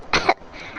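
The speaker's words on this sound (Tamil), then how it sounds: "இருமல் வந்துச்சு பாருங்க" A single short cough from an animated cartoon character, loud and close, lasting a fraction of a second and followed by quiet.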